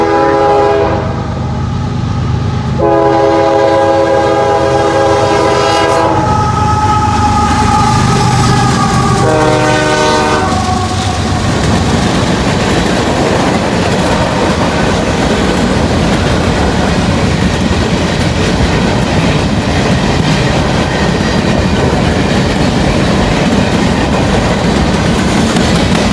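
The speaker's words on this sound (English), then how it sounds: "Norfolk Southern gondola train with 2 UPs on the front" A Norfolk Southern gondola freight train led by two Union Pacific locomotives passes close by, loud and unbroken. Several long horn blasts come first, then a steady rumble of wagons rolling past.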